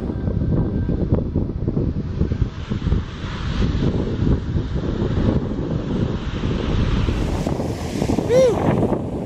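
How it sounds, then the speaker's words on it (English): Big waves crash against the Grand Marais breakwall in Michigan under heavy wind buffeting the microphone, a constant loud low roar of surf and gusts with no pause. "Those waves are getting pretty big now."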